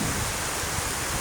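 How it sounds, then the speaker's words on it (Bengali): Heavy rain pours down at a petrol pump, a dense, continuous hiss of falling water that fills the whole short stretch evenly and loudly, with no other sounds standing out. "অঝরে নামছে বৃষ্টি।"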